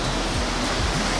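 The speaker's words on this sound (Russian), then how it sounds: "Водопад впечатляет." The largest waterfall in Vietnam's Dak Lak province roars as a dense, steady broadband rush of falling water, loud and close with no other sounds.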